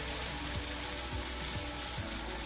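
Diced potatoes and fresh green peas sauté in oil in a pan on low heat for poha. A steady, fairly loud broadband sizzle continues throughout, with a few soft low thumps from stirring. No one speaks.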